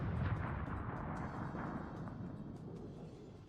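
Heavy, continuous low rumble of battleship main guns firing during a World of Warships naval battle, a dense booming roar that slowly fades without any spoken voices.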